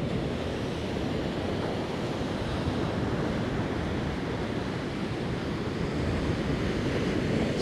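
Steady, continuous roar of ocean surf washing onto a beach in Portugal, with wind buffeting the microphone throughout; no voices.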